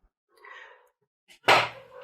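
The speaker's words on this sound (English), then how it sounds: "Oh, that was my chair." A chair lands with a sudden loud, close thud, its low body trailing off over about half a second, after a brief murmur of movement nearby.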